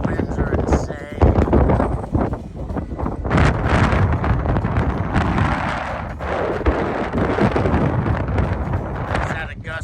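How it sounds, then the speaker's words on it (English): Strong gusts on an Appalachian Trail mountaintop roar across the microphone in a loud, continuous buffeting rumble that swells and eases without a break. "These winds are insane."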